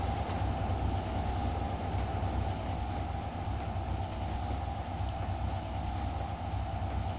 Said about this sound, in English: And people just looking at the train drive by.